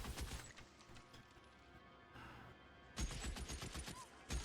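Gunfire in L.A. Noire, a 1940s Los Angeles crime game, with repeated loud shots bursting in clusters over a busy background of game sound, the heaviest volleys near the end.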